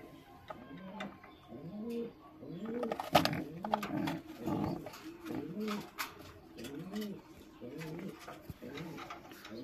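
Racing pigeons coo inside a loft, a steady series of soft, throaty, rolling calls repeating close by, overlapping with rustling and a few faint knocks.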